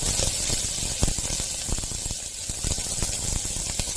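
Onion frying in hot oil with ginger and garlic, dried red chillies and Byadagi chillies in the pan: a constant bright hiss of sizzling with scattered crackles and pops, steady and close, without talk.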